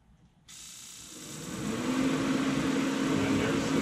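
A Dyna-Glo Pro heater starts up after a brief silence, its steady fan whir and hum building and settling into a loud, constant drone.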